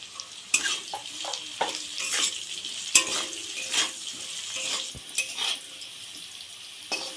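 Potatoes with salt and turmeric fry in a pan with a soft sizzle, interrupted by repeated scraping and clanking of a spatula against the metal, close by.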